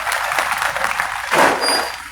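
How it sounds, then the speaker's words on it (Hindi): An audience at a Bahujan literary gathering in Berasia applauds, dense continuous clapping from many hands filling the room at moderate distance for a couple of seconds. "जोरदार मैं चाहूंगा उनके लिए ताली बजाएं।"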